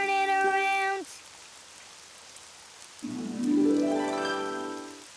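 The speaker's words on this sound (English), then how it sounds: "Oh, it's raining outside." Rain falls outside in an animated children's show, a soft steady patter running beneath voices.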